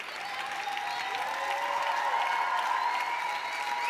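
Sustained applause from a song contest finale audience, loud and continuous with cheering tones mixed in, a dense wash of clapping that holds steady across the whole stretch.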